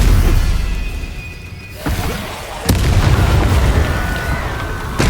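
Incendio fire spell cast in the Hogwarts Legacy video game: a sharp cracking burst near the middle followed by a loud booming, whooshing roar that carries on over rumbling low game ambience.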